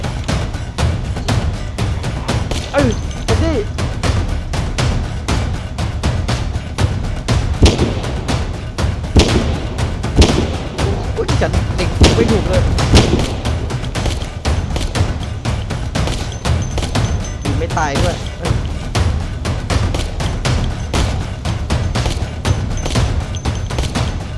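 Sustained gunfire in the zombie survival video game Project Zomboid, a dense, continuous crackle of rapid shots and bursts lasting over twenty seconds at a steady, loud level with no voices.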